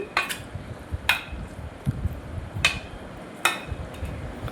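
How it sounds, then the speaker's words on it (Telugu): Metal lid set onto a pot of tempered dal in a home kitchen, a few sharp clinks and taps spaced apart over quiet room noise, with no talking. "మూత పెట్టి పక్కన పెట్టేసుకోవాలండి"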